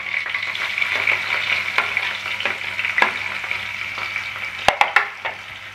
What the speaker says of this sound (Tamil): இப்போ நம்ம தட்டி வச்ச பூண்டை சேர்த்துப்போம்.